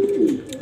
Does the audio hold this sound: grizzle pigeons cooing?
yes